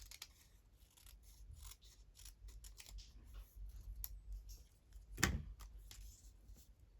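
Scissors snipping paper for a collaged postcard, a run of soft, quick close cuts with one sharper, louder snip near the end, heard alone without talk.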